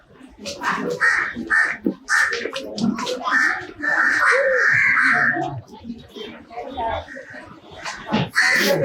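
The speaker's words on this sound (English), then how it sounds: "Lots of crows around." Crows caw repeatedly outdoors in hot, humid Indian streets, harsh rasping calls in quick bursts, loud and near, with people talking underneath.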